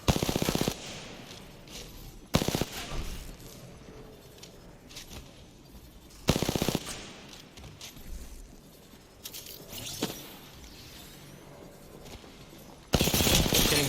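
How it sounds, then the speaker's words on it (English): Gunfire in a battle royale video game during a competitive esports match, loud sharp bursts of automatic fire cutting in at several points across the stretch, with quieter game ambience between them. "Great shots from Clutch"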